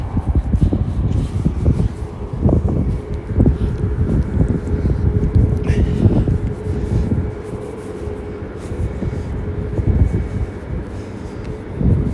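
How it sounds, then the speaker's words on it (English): Loud, low rumbling wind buffets the microphone continuously on a very windy day along the Cedar River, gusting up and down throughout with no voices. "picking up the wind because it's really windy here"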